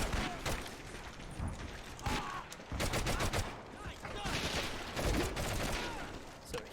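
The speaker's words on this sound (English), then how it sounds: "I don't know what they're shooting at" Dense gunfire in Medal of Honor Heroes on PSP, rapid machine-gun bursts and rifle shots crackling continuously near and far around a church and tunnel, with battle shouts mixed in.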